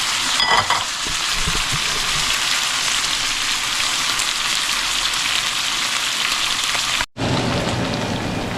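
Steak frying in a pan gives a loud, steady sizzle that runs unbroken for the whole stretch, with a brief dropout near the end before the hiss resumes.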